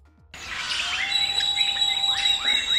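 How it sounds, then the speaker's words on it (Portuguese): Birds of paradise give bright chirping and whistled calls during a courtship display, several clear overlapping tones and rising notes sounding continuously and close after a brief quiet start. "Bons exemplos disso são as aves do paraíso."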